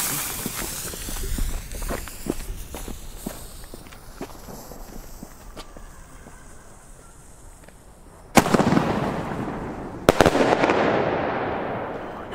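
Pyrostar Mega Shot gold salute fireworks: light crackling pops and footsteps early on, then two sharp, loud booming bursts a couple of seconds apart, each trailing into a fading crackle.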